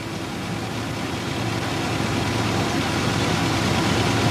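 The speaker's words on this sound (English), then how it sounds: "A car with its engine running and the wheels turned towards the traffic lane is in a position to move rapidly" A car engine idles steadily in a low, continuous drone, close and even throughout with no speech over it.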